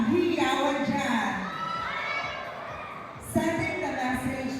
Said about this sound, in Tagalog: Wala po ba ang hiyawan dyan?